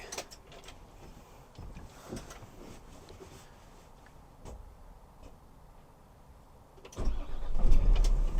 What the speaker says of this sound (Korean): 일단 엔진 시동 한번 걸어봐 드릴게요.